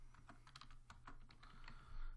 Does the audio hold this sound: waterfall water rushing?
no